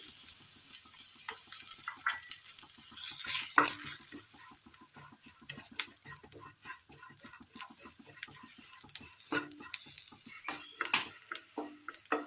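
Okra curry with chilli powder, turmeric, chicken masala and shallots is stirred and roasted in a pan, a quick run of spatula scrapes and taps over a soft continuous sizzle, close by with no voices.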